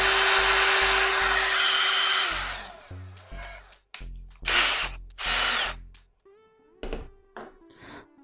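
Power drill with a DeWalt bit fitted, whirring steadily for a couple of seconds before winding down, followed by short bursts of triggering and clicking, close and fairly loud.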